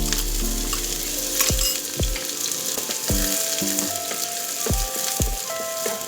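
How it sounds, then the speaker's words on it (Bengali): A large onion fries in hot white oil in a kadai, a steady crackling sizzle underneath a series of metallic clinks and taps from a utensil striking the pan several times, close and fairly quiet. "তেলটা যখন গরম হয়ে যাবে তখন আমি এর মধ্যে দিয়ে দেব একটা বড় সাইজের পেঁয়াজ।"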